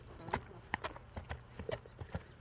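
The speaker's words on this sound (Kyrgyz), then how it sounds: "Көрүп турасыздар атты туугандар, чаап кетти Неметилла." Hooves of a black horse clip-clop in quick, uneven beats as it runs, fairly faint and a little distant, with scattered outdoor noise between the hoof strikes.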